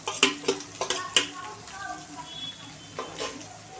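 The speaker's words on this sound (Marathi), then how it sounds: "आणि हे सगळं काम हाय फ्लेमवर करायचं आहे। ह्या भाज्या आपण छान अशा फ्राय करून घ्यायच्या आहेत" Cabbage, carrot and capsicum stir-fried over a high flame for chapati noodles: a few sharp spatula clacks against the pan early on over a steady, close sizzle, which then settles into softer frying.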